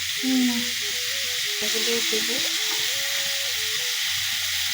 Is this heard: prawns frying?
yes